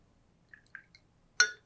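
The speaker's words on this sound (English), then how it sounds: "Now let's listen to the salt water and see if there's any difference." Salt water at a children's museum water exhibit gives off a few faint, soft drips, then one brief, louder splash near the end.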